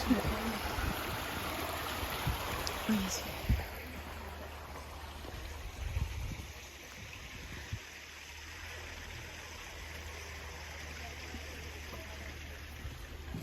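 Steady rushing of a flowing spring stream in Romania in winter, water babbling continuously close by, with a brief louder splash early on and faint outdoor noise.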